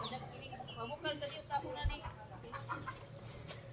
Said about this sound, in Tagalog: ang manok ay daghan